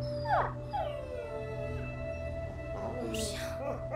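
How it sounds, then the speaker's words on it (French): A dog whimpers and whines in the medieval adventure game A Plague Tale: Innocence, with rising and falling high-pitched cries repeated over several seconds above a steady low ambient drone. "Mon chien."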